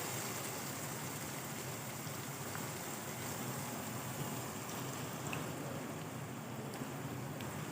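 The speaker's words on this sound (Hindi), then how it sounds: "अब हम इसमें दही शामिल कर देंगे" Yogurt added to frying masala in a pot makes a soft, even hiss and sizzle that is faint but steady throughout, with no speech over it.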